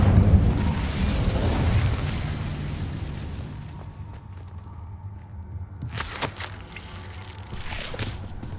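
An Incendio fire spell in Hogwarts Legacy goes off as a loud rumbling blast that slowly fades, followed by a few sharp bursts and crackles near the end; no one speaks.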